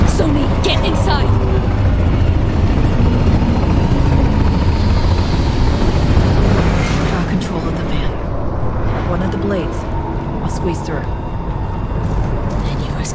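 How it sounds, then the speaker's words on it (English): U.S. combat helicopters flying over a free city in Cyberpunk 2077, a loud continuous rotor roar and rumble under voices talking throughout. "U.S. combat choppers buzz in the free city of NC"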